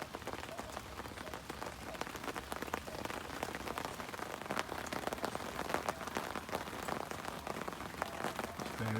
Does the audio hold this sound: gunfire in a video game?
no